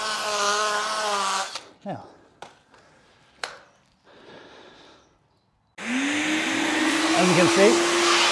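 A vacuum cleaner working over dusty car floor mats from a BMW being detailed: the motor hums close by, cuts out amid a few clunks and knocks, then roars back on with a rising whine and runs steadily.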